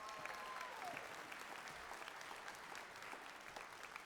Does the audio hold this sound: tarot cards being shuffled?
no